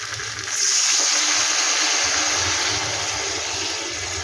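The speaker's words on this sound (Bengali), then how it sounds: "এবার আমি আন্দাজ মতন জলটা দিয়ে দেবো।" Water is poured into a pan of soybean do piyaji as it cooks, a sudden rushing gush that swells after a quiet start and holds as a loud, steady hiss and bubble.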